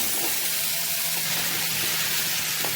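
Onion stalks fry with cooked-down spices in a hot pan alongside dried shrimp, producing a dense, constant hiss of sizzling oil at close range with no voices over it.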